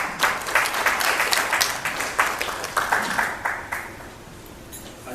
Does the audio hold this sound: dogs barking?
no